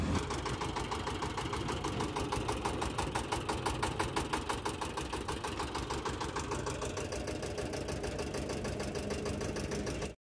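A motorbike engine idles close by with a steady, rapid, even chugging rhythm that holds for about ten seconds. No one speaks over it.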